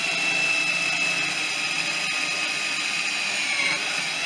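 A power drill with a sharp bit whines at a steady high pitch, boring through aluminum in one continuous, close run with a slight pitch shift near the end.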